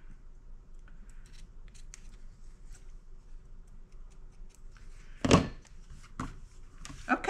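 Fabric being cut for a quilt with scissors, heard as faint, scattered snips and ticks, then a sharp close cut and a few louder clicks and thunks near the end.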